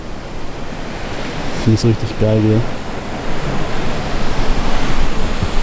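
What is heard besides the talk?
big ocean waves at Uluwatu cliffs, Bali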